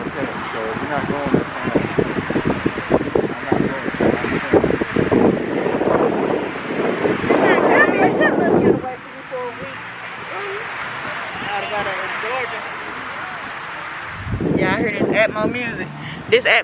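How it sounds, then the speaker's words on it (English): Strong outdoor wind buffets the microphone in rough, loud gusts, roaring and rumbling for several seconds, easing to a lighter steady rush, then surging again near the end, with a voice speaking over the noise. "The wind disrespectful, y'all."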